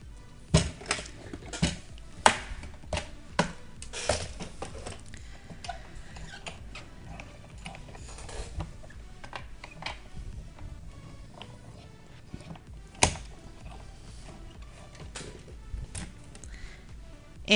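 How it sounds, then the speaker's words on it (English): A die cutting machine presses cardstock with hot foil through a letterpress-style plate, giving a steady mechanical rattle with sharp clicks and ticks scattered throughout, close and fairly loud, no talking. "we're going to run this through our die cutting machine"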